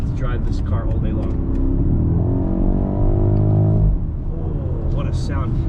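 A BMW 760i xDrive with a 4.4-litre twin-turbo V8 in sport mode accelerates hard, its low engine drone climbing in pitch and then dropping sharply at a harsh gear shift, with brief bits of a voice around it.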